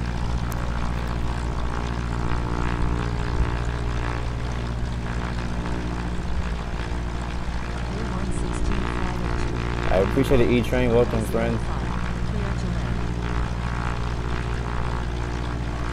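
A propeller airplane engine drones steadily in the Infinite Flight game, a loud constant low hum that persists throughout while someone talks over it.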